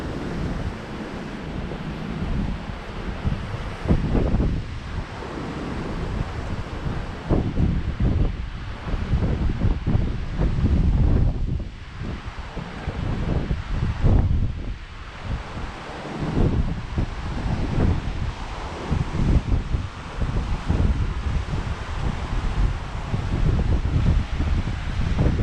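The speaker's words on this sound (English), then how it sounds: "It's a bit too windy." Strong sea wind buffets the microphone on a coastal walk at Palmanova and Son Caliu, Mallorca, in February, a steady roaring rush with surf mixed in and gusts swelling throughout, no one speaking.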